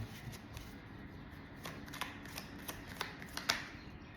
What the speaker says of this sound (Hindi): आपके लिए मैं एक कार्ड यहां से निकालने वाली हूं